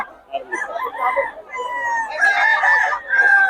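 Roosters crow loudly and repeatedly at a chicken market in Bocaue, several birds overlapping with clucks and a rising final crow, close by with market bustle.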